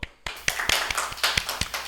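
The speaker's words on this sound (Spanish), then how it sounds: "Vamos a darle un fuerte aplauso." Quick rhythmic clapping at a church worship celebration, with about eight sharp, evenly spaced claps in under two seconds, close and crisp, like a small group clapping to a beat.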